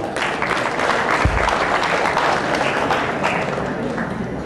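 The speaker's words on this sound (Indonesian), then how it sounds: "kita beri tepuk tangan yang meriah untuk pengiring musik pada malam hari ini" Audience applause at the Bandung Film Festival awards ceremony, a steady wash of clapping from a hall crowd, moderately loud and continuous, with faint voices beneath.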